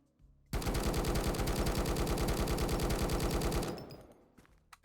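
A rifle fires in full-auto in the survival shooter Road to Vostok: a rapid, evenly spaced string of loud gunshots lasts about three seconds, then cuts off and a short tail fades out.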